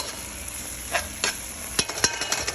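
Stovetop jerk chicken bubbles in a pot with a steady hiss and sizzle, and several sharp clicks and scrapes from a utensil stirring against the pot.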